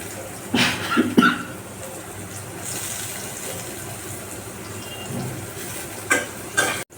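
Chopped onion and green chili frying in a pan for a chicken roast, a steady broad sizzle with a few sharp stirring clatters near the start and end.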